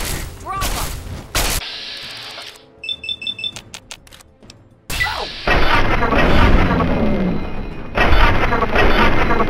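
Gunfire and heavy explosive blasts in the video game Fallout 3 at Vault 87, loud bursts broken by a quieter stretch of rapid clicking shots, then a sustained roaring barrage, with game voices mixed in.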